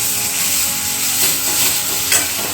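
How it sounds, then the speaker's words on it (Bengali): Mashed chhana is stirred into boiled carrots in a pan for gajar sondesh, a steady close sizzle and scraping stir with a few louder spoon scrapes. "এবার এই ছানাটা গাজরের সাথে ভালো করে মিশিয়ে নিই।"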